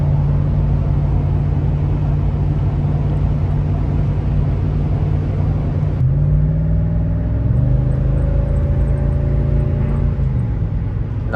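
A Lexus GX470 V8 with an aftermarket exhaust cruises at about 2,000 RPM. It makes a steady, loud, low rumbling drone inside the cabin, and the engine note shifts partway through.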